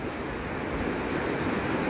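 Atlantic Ocean surf at a St. Augustine, Florida beach at sunrise makes a steady, full wash of breaking waves with wind, constant and fairly loud, with no voices.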